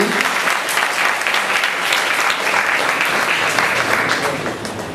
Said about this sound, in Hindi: तो हम एक बार जोरदार तालियों से उनको धन्यवाद देंगे।